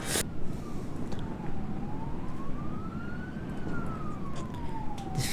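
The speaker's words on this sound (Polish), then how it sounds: "Czemu karetka jedzie?" An ambulance siren wails in the game Garry's Mod, a single slow rising and falling tone that sweeps up and down over a dense rumble of game noise.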